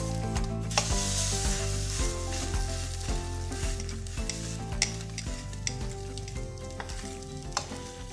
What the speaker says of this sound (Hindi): लो आंच पे इसको फ्राई करेंगे ताकि चीज़ जो है वो अच्छी तरह मेल्ट हो जाए